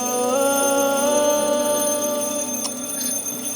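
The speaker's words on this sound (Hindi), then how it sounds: "अलार्म बंद कर दो" Alarm clock ringing with a steady electronic tone and bright harmonics, loud and close, sounding continuously without pause and no voices over it.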